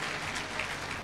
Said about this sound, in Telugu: చేతుల పైకి గట్టిగా చప్పట్లు కొట్టి ప్రభువుని స్తుతిద్దాం